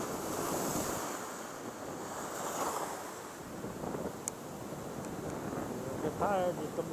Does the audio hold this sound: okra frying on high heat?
no